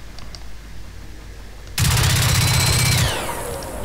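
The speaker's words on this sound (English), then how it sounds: "We're going to shoot them and shoot them quite dead." Robot Rollers are shot at in the video game Generation Zero: a loud, dense burst of rapid gunfire erupts after a quiet stretch and runs for about a second and a half before cutting off, leaving a lingering ringing tail.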